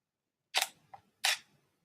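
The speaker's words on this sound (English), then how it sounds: "I'm going to give you an example of a slow shutter speed" Two crisp camera shutter clicks at a slow shutter speed, about three quarters of a second apart, the first followed by a soft mechanical tick, close and isolated in silence.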